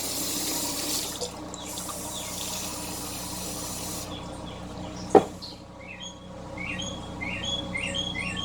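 Warm water pours steadily from a tap at first, then stops with a brief clunk; birds chirp faintly in the background afterward.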